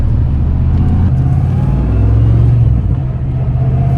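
A car with a freshly installed 500 HP T5 manual transmission drives along with a steady, loud engine rumble heard from inside. The pitch steps as gears shift, and the drone dips briefly near the end.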